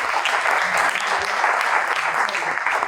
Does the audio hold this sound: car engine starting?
no